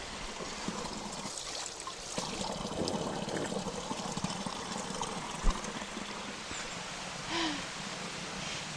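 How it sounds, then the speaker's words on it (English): Water from a natural spring runs and trickles steadily in a restored mountain village in Portugal, a close continuous flow with faint rain-like hiss and no talk over it. "this water is from a natural spring."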